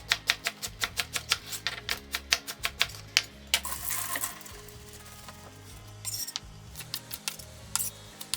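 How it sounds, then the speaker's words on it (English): Knife chopping ingredients such as pork belly and garlic on a board for yakisoba, a steady run of sharp rhythmic taps close by, pausing briefly for a scraping shuffle before the quick chopping resumes. "let's cut the ingredients"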